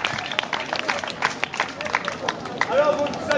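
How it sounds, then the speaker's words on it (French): A theatre audience at a Saint Louis festival applauds, with scattered clapping and crowd hubbub that rise and fall, alongside a few faint voices. "Les applaudissements, s'il vous plaît."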